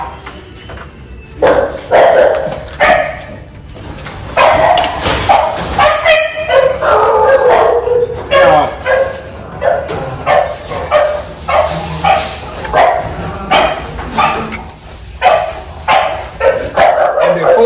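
A puppy barks, yips and howls in repeated close bursts, with people talking and exclaiming over it much of the time.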